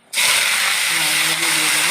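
Nigella seeds and dried red chillies hit hot oil with a sudden loud sizzle that holds as a strong, steady hiss, with brief talk faintly audible underneath.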